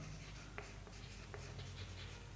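A pen writes notes on a board or paper during a physics lecture on electric current, with faint scratchy strokes over a steady low background hum and no speech.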